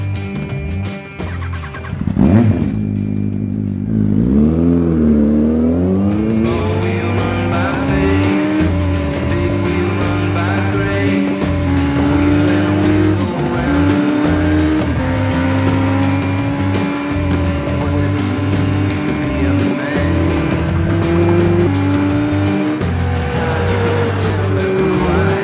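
A Yamaha XJR1300 Racer cafe racer motorcycle engine is started and revs, a loud, close, sustained engine roar with rising and falling pitch sweeps over a steady low drone.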